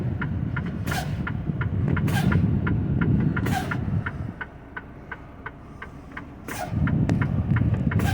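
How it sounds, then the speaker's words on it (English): A tractor-trailer's air brakes are pumped during a pre-trip inspection, producing repeated sharp hissing bursts of released air amid a steady engine idle and a rapid ticking warning signal. "You need to pump the brakes until you get to the 60"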